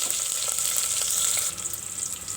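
Green chillies, chopped onion and garlic sizzle in hot oil for a rice dish, a close, steady frying hiss that runs throughout with only slight changes in level and no speech.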